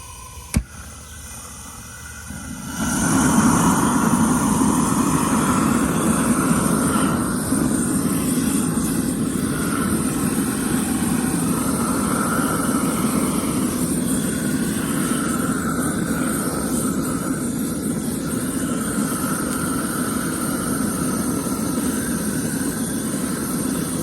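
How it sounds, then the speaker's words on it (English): A grill gun blasts a steady, loud rush of air into charcoal in a Weber kettle, starting after a brief click and continuing as a constant roaring whoosh to the end. "so we're just going to use our grill gun"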